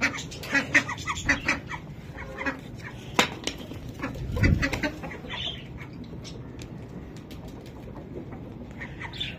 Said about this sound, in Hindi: दोस्तों मुर्गियां और मुर्गे उधर ही पहुंच गए